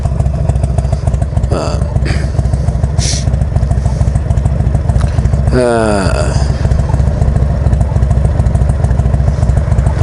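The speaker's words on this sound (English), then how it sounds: "He just built a motorcycle." A Hammer Performance motorcycle with a 1275 kit engine runs loud and steady close by on its first ride, with a brief rising rev sweep partway through and some clatter.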